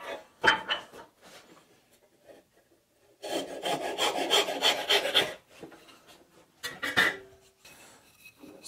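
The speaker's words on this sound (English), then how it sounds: "first I will saw them to final length" A hand saw cuts wooden stool stretchers to final length. Short raspy strokes come in bursts, with a sustained run of rhythmic sawing in the middle and another brief burst near the end, close and moderately loud.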